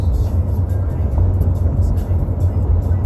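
Steady low road rumble from a car cruising at around 58 on a highway, tire and engine noise filling the cabin continuously while people chat inside.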